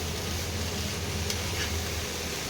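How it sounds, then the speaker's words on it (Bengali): Prawns frying with spices in a pan: a steady, soft sizzling hiss runs evenly under a low hum for a few seconds, with a faint stir or scrape midway. "এবার মশলা দিয়ে এটাকে ভাজতে হবে।"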